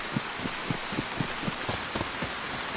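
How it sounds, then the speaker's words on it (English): Heavy rain in the survival video game DayZ falls as a dense, continuous hiss with scattered louder drops tapping at an irregular rhythm, fairly faint overall and with no voices. "Hardly hear myself thinking all this rain."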